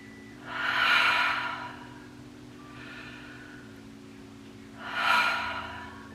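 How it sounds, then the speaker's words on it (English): Slow, deep breaths in and out, close and soft, with a long inhale, a fainter middle breath and another full breath, each separated by quiet pauses. "just breathing in and out nice and deeply"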